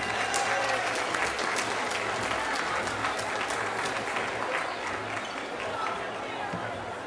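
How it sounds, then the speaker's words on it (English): An outdoor evening crowd at a Harlem Week event at Gracie Mansion, New York, claps in sustained, broad applause that holds steady and tapers slightly toward the end, with faint chatter mixed in. "Give them a round of applause, please, Harlem."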